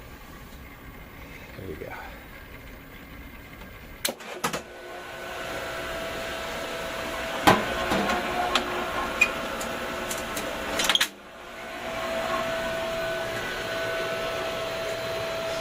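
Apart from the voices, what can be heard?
pool filter pump powering up and running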